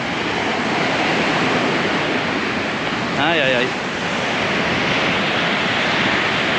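Ocean waves breaking at Punta del Este beach in Maldonado, Uruguay, a loud, continuous roar of surf filling the whole clip, with a short exclamation from a person partway through.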